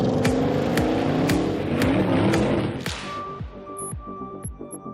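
An Audi Quattro with all-wheel drive climbs a steep hill at a test site, its engine droning loudly and steadily, then easing off into quieter idling with rattling, clicking and knocking from the car's drivetrain.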